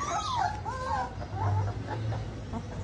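A puppy whimpers and whines in a few short, high, wavering cries, close and fairly quiet over a low background hum.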